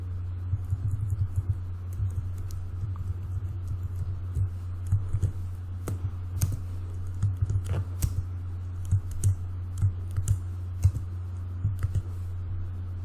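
Keyboard typing while writing CSS padding code, with light, irregular key clicks over a steady low electrical hum, fairly close but quiet and with no talking.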